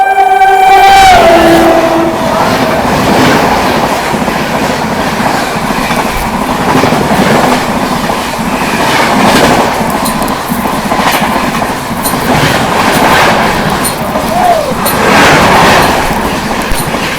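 Indian Railways 12581 Banaras–New Delhi Superfast Express overtaking on an adjacent track: a short horn blast, then a loud, steady rumble with continuous clickety-clack of wheels over rail joints as the coaches rush close past.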